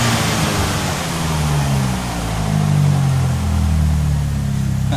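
Engine of a VW Gol 1.0 16v Turbo running loud and close, its droning pitch rising and falling steadily like light revving, under a heavy broadband rush with no talk.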